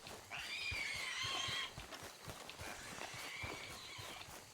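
In Red Dead Redemption II, hooves clip-clop steadily at a walking pace while a horse gives a drawn-out whinny, then a softer second one. The sounds are fairly faint and come with no talking.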